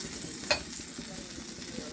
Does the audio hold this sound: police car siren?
no